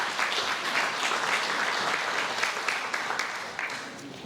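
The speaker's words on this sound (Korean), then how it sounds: "여러분 따뜻한 박수로 환영해 주시기 바라겠습니다." Warm audience applause at a Korean award ceremony for independence activists, a dense steady clapping that fills the room for several seconds and tapers slightly at the end.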